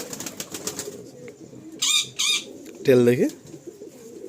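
Large Giribaz pigeons at a loft coo softly amid quiet background noise, with a couple of brief bird calls and a deeper, louder coo near the end while someone speaks briefly.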